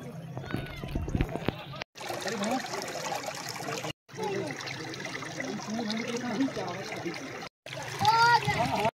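Clear stream water splashes and trickles steadily in a scenic valley, with someone talking over it almost throughout; the flow stays close and constant, briefly cut by short gaps.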